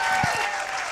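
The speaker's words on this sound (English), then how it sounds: "let's give a big round of applause for tonight's session" Short burst of audience applause at a community session on empathy and tolerance in Midland, Michigan, a steady wash of many hands clapping from start to finish at moderate level, with brief low thumps early on.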